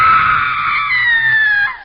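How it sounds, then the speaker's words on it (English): Women screaming as a sound effect in a digital story, a loud, sustained high-pitched wail held for nearly two seconds before cutting off abruptly. "At night, I would hear women screaming"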